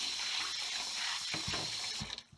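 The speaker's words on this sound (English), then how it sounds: "Rinse your dirty wok with hot water" Hot tap water runs and splashes against a dirty wok being rinsed, a steady close rush that cuts off near the end.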